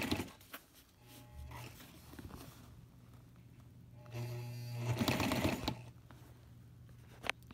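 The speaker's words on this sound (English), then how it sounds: "I'm going to backstitch here on this corner" A sewing machine backstitching a window panel into a canvas hot tent, faint and intermittent stitching bursts with a low motor hum and rustling fabric between runs.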